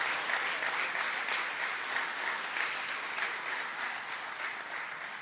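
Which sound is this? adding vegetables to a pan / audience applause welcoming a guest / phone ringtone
audience applause welcoming a guest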